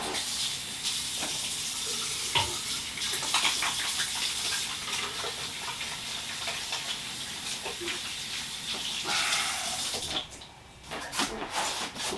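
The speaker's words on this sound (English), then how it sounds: "Rinse my hands off real quick." Tap water runs steadily while hands are rinsed under it, a continuous close hiss of flow and splashing that breaks off briefly near the end before resuming.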